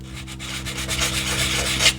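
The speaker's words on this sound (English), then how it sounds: "the 180 sandpaper will take a lot of styrene off" Styrene plastic rubbed with 180-grit sandpaper on a model build, a close, steady rasping scrape in short back-and-forth strokes, alone and fairly loud.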